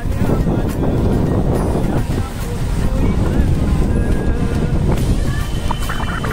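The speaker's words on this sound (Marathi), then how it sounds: "बघा या साईडला किती हवा चालली." Strong wind blowing by Vashi bridge in rain, a loud constant roar and buffeting across the microphone with a water-like wash underneath and muffled voices.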